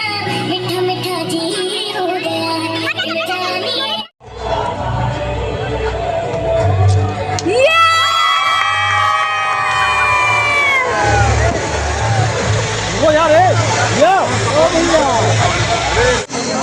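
Dense crowd noise at a wedding entrance: a bride's arrival amid a packed throng of guests, with loud continuous chatter and cheering, shrill shouts and whistles rising midway, and voices talking throughout.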